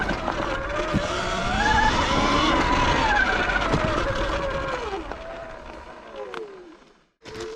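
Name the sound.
riding an X160 electric bike off-road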